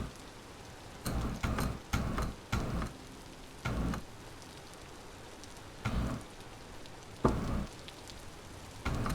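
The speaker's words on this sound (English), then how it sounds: "And look, it's starting to rain again." Rain in Vintage Story arrives in bursts of patter and hiss, several short gusts of drops rising and fading over a quiet background.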